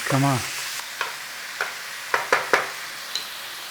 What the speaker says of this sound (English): In there, your beef mince. Start cooking and breaking it down. Now we want a browning on here if we can get it on.